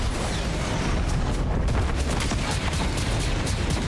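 Dense, continuous gunfire from a Fortnite match, a steady rattle of rapid shots and booms that fills the whole stretch loudly, with no talk over it.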